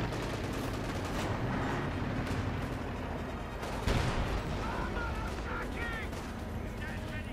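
Battle noise from the video game Company of Heroes 2 in a 1v1 match, dense continuous gunfire and artillery rumble with one sharper blast, under a steady commentator's voice.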